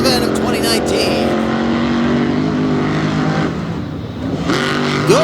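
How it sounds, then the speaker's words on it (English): Drag racing trucks make a pass at the final event of the 2019 season, with loud continuous engine roar and harmonic whine throughout, and a second rising rev near the end. "Good run for both of those trucks."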